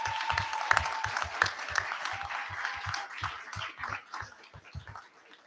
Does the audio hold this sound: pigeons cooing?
no